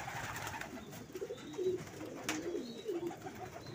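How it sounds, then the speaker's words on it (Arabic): A domestic pigeon held in the hand coos softly in low, rolling murmurs, a few short phrases over faint background noise in a loft, with no talking. "انا مسكت مثلا ايه فرد حمام دلوقتي اهو"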